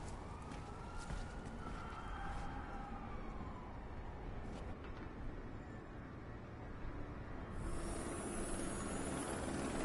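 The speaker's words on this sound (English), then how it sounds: "I do believe that is a helicopter" A helicopter in Watch Dogs 2 produces a continuous low rumbling drone with a faint siren-like tone riding over it, rising slightly in loudness toward the end, with no talk.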